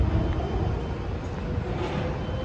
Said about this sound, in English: You can hear the cars bouncing off of it